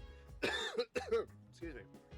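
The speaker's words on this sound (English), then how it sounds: "Let me cough real quick before we get started." A person coughs close and clearly a few times in quick succession, with a short throat-clearing sound and some voiced sounds mixed in.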